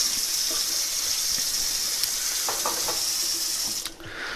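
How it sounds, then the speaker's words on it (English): Cold water runs steadily from a sink tap into the basin, a continuous close gush that stays even throughout with a few small clinks near the end, used while separating a cut wine bottle. "Then you want to turn on your cold water"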